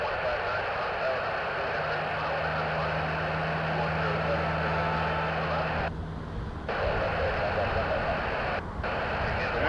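KLM Boeing 787-10 on pushback at Toronto Pearson airport, a steady, loud engine and ground rumble filling the whole stretch with a low drone, briefly dipping twice, while a voice talks over it.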